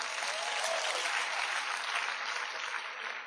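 A congregation applauds at a Christian church service, steady dense clapping that fills the whole stretch evenly and fairly close, with no voices over it.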